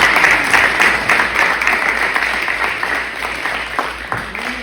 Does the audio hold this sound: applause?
yes